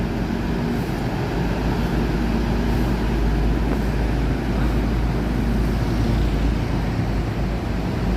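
An economy-class Bandung bus, number 144, rolls toward a parking area, its engine giving a steady, loud, unbroken drone with a low rumble throughout.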